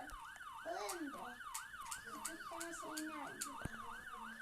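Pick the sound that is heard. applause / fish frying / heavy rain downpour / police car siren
police car siren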